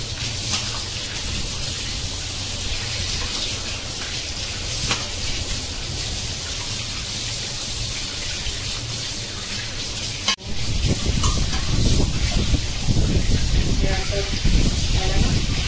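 Black pomfret fish being washed under water: a quiet kitchen with a voice talking gives way to a loud, steady gush of running water splashing over the fish for the last few seconds.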